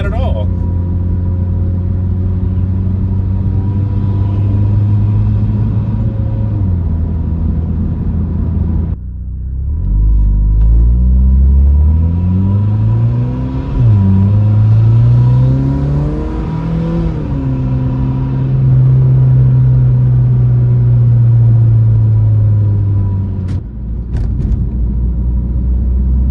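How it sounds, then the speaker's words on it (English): A Mitsubishi Evo X with a rebuilt engine and automatic transmission in manual mode, its intake note rising and falling through gears while driving, a loud, close engine drone with smooth shift dips. "Put it in manual mode here and good intake noises."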